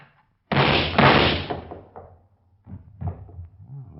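A door bangs open with a loud, close slam and rumbling thud, followed by a second heavier impact, then scuffling and a few softer knocks in a tense indoor scene, with no voices.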